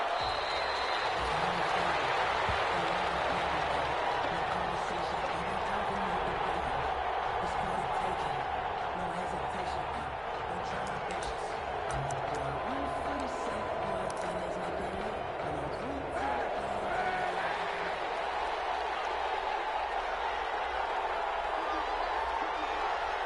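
An NFL stadium crowd in a football video game roars and applauds in a continuous wash for Washington against the Las Vegas Raiders, a broad murmur with a few louder swells and nobody talking.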